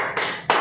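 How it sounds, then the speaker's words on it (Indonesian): Two sharp hand claps a fraction of a second apart, close and fairly loud, from children doing the tepuk sehat clapping routine during an online Sunday school session. "Tepuk sehatnya dari yang pelan-pelan dulu ya adik-adik."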